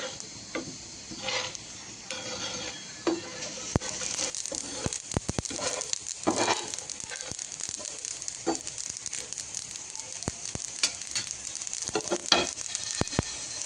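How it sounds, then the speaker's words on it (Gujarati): Raw mango and chilies dry-roasting in a pan over a medium flame, a continuous crackling sizzle broken by irregular sharp clicks and scrapes from stirring, close and fairly loud, with no voices. "હવે આપણે આવી રીતે મીડિયમ ફ્લેમ પર સુગંધ આવે ને ત્યાં સુધીમાં શેકી લેવાનું છે."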